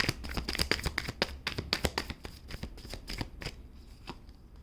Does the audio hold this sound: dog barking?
no